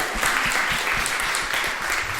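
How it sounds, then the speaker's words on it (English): Audience applause at a travel content creation conference, a dense, steady wash of many hands clapping close by for about two seconds, with no voices over it. "Please give a big round of applause for Kim Leuenberger."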